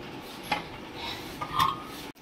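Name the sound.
appe pan being handled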